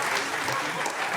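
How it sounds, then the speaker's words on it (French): Brief burst of audience applause at a live comedy show, dense clapping from a crowd, loud and continuous for about a second. "Allez-y, une bonne main d'applaudissement"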